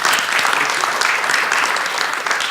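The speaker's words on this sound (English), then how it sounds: "if you would give the whole team one round of applause" A short, dense round of audience applause for a teacher leadership team, close and steady across two and a half seconds, with no talking over it.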